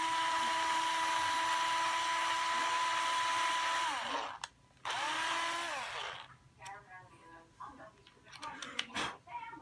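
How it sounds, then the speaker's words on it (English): A power screwdriver drives screws into a metallic blue Fender Squier Mustang hardtail short-scale guitar, a steady whirring motor for about four seconds, then a second shorter run before fading into quieter handling noise. "So see, you can use a power drill as long as you're careful. I mean a power screwdriver."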